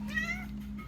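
A house cat meows once, a short, fairly close but soft cry that rises and falls over a low background hum, with no talking.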